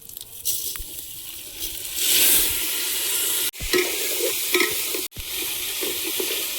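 Bay leaf, cumin and dried chilli tempering lightly in hot oil for khichuri, a loud close sizzle with stirring scrapes, cut twice by brief sharp breaks, with no talking.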